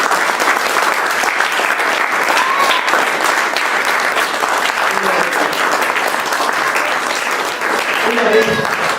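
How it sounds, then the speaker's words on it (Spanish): A church congregation applauds, a sustained, dense wash of many hands clapping that fills the room steadily, with a few voices calling out faintly near the end. "En esta tarde yo los invito a que den un fuerte aplauso a Cristo."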